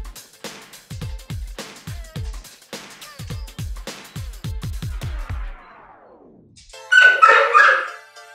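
Dogs barking in a home, a rapid series of about a dozen loud close barks that tail off, followed by a brief noisy burst of other sound at the end.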